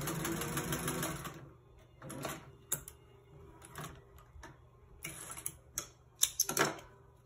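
A Singer 201-2 sewing machine stitching through eight layers of fabric, running in short whirring bursts separated by brief pauses and clicks, close and fairly quiet.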